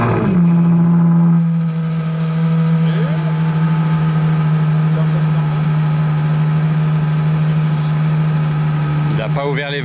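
A Ferrari with Novitec tuning idles loudly in Monaco, a strong steady low drone with a brief rev at the start and a sharper throttle blip near the end, while people talk nearby.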